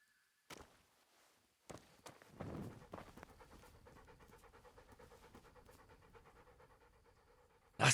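Mutt, a dog in the video game Kingdom Come: Deliverance, pants rapidly and rhythmically at close range after a few soft thumps and footsteps, the panting continuing steadily to the end.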